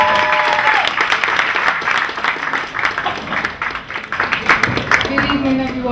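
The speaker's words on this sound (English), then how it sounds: "please give a warm, big round of applause for EST Poetry" Lively applause from an audience at a poetry event, dense clapping that holds strong throughout with a few cheers mixed in.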